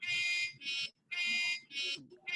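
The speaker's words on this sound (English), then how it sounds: "First stop the alarm." Alarm clock app ringing through a phone or computer speaker, a bright buzzy electronic tone in repeated bursts of about half a second with short gaps, loud and close, with faint background noise beneath.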